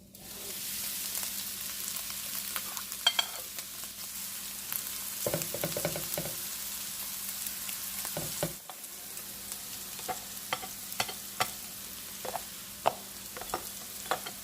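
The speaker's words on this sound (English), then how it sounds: "now we are going to fry it for a little bit till it gets crispy" Vegan beef pieces sizzle and fry in hot oil, a steady crackling hiss with occasional stirring clatter and scraping, close and continuous with no talking.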